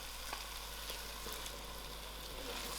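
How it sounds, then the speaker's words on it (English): Grated tomatoes hit lamb mince already sizzling in a pan, giving a steady, close frying hiss with faint stirring clicks throughout. "I will add in my grated tomatoes to it."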